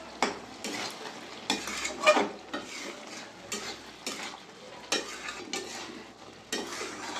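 Prawn curry with pumpkin, potato and a little sugar being stirred in a pot, repeated spoon scrapes and knocks in an uneven rhythm over a faint simmering hiss, close and quiet, no speech.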